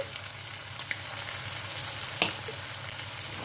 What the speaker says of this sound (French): Et on va les faire revenir à peu près 5 minutes. Il faut que ce soit bien doré de chaque côté.